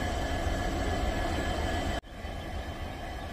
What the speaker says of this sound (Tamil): நாம இப்போ கேஆர்புரம் ரயில்வே ஸ்டேஷன்ல இருக்கோம்.